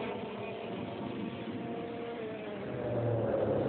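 TKM karts stream over the finish line at a kart race, their engines forming a dense, continuous droning roar that swells slightly louder toward the end.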